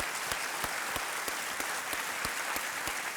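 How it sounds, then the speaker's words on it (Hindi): Studio audience applause on a televised quiz show, steady dense clapping throughout with rhythmic accents, loud and close, with no voices over it. "तालियों के साथ इनका अभिनंदन किया जाए।"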